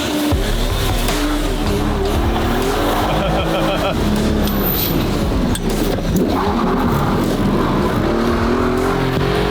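A yellow Lamborghini Gallardo supercar, converted to a gated manual gearbox, slides with continuous tire squeal and a loud roaring engine throughout, under voices talking.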